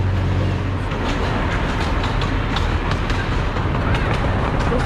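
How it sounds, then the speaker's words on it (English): Steady rumble and rattle of the Pioneer miniature train ride at Knoebels Amusement Park rolling along its track, continuous and fairly loud throughout, with faint clicking from the wheels. "that was the Pioneer train"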